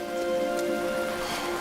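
Steady rain pattering on a surface, a soft continuous hiss with a faint tonal hum underneath.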